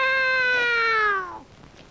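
A cat meows once in a classroom, a clear, drawn-out, harmonic meow that slides downward and fades at the end, close and alone.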